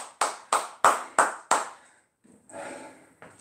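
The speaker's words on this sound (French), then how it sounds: "Vous pouvez mieux vous applaudir." Five sharp, evenly spaced claps from a fitness class group applauding themselves at the end of a workout, followed by a brief pause and some faint shuffling.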